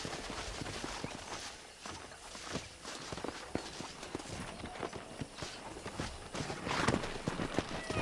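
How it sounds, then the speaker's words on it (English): Wild horses in Red Dead Redemption trot past with a steady, irregular clip-clop of hooves on the ground, quiet and somewhat distant, with a soft outdoor ambience and no talk. "That ranch hand said there's a pack of wild horses nearby"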